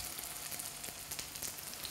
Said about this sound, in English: I'll demonstrate pan or shallow frying and cook some Chinese lamb bubble and squeak cakes.